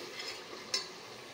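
Onion and tomato puree frying in a pan for a chicken curry, giving a faint, steady low sizzle with one brief scrape of stirring near the middle.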